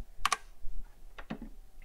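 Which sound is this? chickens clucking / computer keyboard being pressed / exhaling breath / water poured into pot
computer keyboard being pressed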